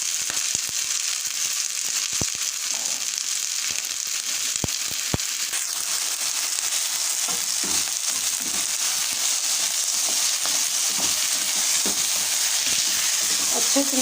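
Cooked green rice for sweet mutanjan is mixed and stirred in a hot pan, a continuous close frying sizzle punctuated by repeated scraping clicks of the spoon, with no talking.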